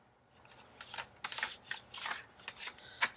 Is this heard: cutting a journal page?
yes